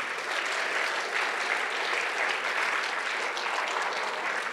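Applause from the audience at a cosplay contest, a steady dense wash of clapping hands filling the room at even loudness throughout.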